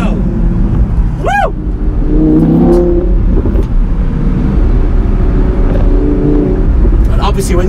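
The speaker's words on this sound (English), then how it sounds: "when you've got the Spyder as well, you can hear the full sound of the car." 2018 Audi R8 V10 Spyder engine running loud and close, a sustained roar with rising revs, while a person talks over it and a short chirp cuts in early.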